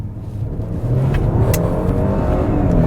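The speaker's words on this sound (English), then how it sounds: "let's just kind of accelerate." A 2018 Genesis G80 AWD Sport twin-turbo sedan accelerates hard from the cabin, its engine note climbing in a steady, loud rising drone with no talk over it.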